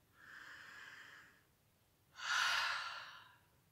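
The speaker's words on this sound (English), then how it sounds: "and one more sniff" Two breaths drawn in through the nose during a beginner yoga session while inhaling a scent rubbed on the temples: a soft, longer inhale, a pause, then a stronger, louder sniff, close to the microphone in a quiet room.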